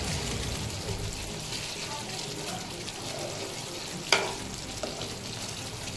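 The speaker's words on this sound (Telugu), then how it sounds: "తర్వాత కొత్తిమీర వేసేసుకొని దీన్ని బాగా కలిపేసుకోవాలి" Paneer curry with coriander and kasuri methi being mixed in a pan, a soft continuous sizzle with faint stirring and one sharp clink of the spoon near the end.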